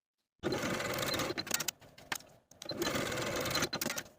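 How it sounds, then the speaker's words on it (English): Sewing machine stitching shoulder seams on a flutter sleeve top, running in two close, steady bursts of rapid whirring with a brief stop and a few short stitches between them. "Sew your shoulder seams with a 1/2 inch seam allowance and press the seams open."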